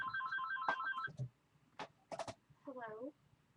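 A telephone rings with a warbling electronic tone for about a second, then brief clicks and a cat-like meow follow, all faint and indoors.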